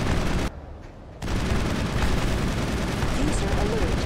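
Gunfire during combat in Mass Effect, a dense, loud barrage of shots and booms that cuts out briefly near the start, then resumes and continues steadily to the end.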